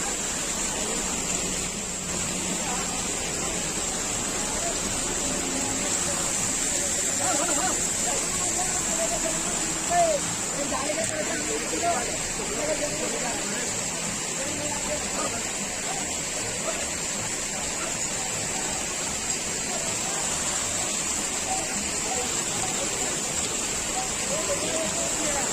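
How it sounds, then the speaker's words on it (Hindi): Steady rushing water of a mountain waterfall beside the Kedarnath trekking trail, a constant broad wash running throughout with a person talking over it. "ये रहा झरना मेरे पीछे"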